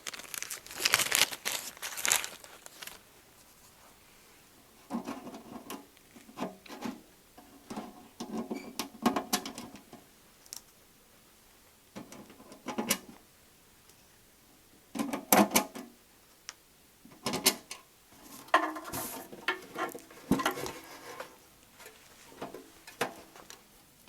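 Small screws, nuts and washers for fitting a plug panel to an avionics tower case are handled in bursts of light metallic clicks, crinkles and rattles, close up and separated by quiet pauses.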